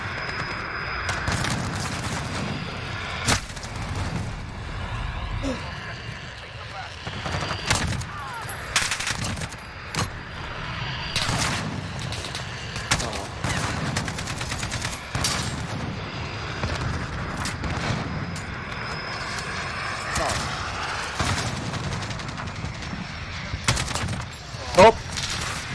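Rapid gunfire from a PC shooter game crackles in repeated bursts across the whole stretch, sharp volleys over a steady low rumble, with players talking and shouting underneath.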